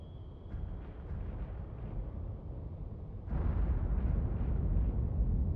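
A barrage of shells explodes around a ship in the Cold Waters naval video game, a continuous deep rumbling roar that swells louder partway through, dense and heavy without distinct separate blasts.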